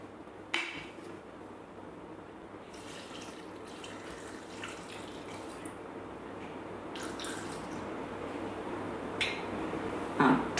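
Water is poured into a Thermomix bowl while a coconut chicken curry is prepared, giving a steady, soft splashing trickle that runs for about ten seconds at low level and ends with a few brief drips and clinks.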